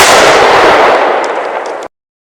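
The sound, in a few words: bomb explosion sound effect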